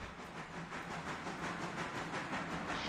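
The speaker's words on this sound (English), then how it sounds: "And let's speed this train up." A train running on rails in the Railroader video game, a steady rolling rumble with faint rhythmic clatter and hiss, continuous and moderately quiet, with no talking.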